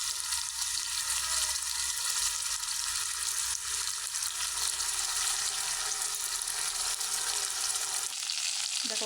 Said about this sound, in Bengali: দেখো মাংসটা কষিয়ে নিলাম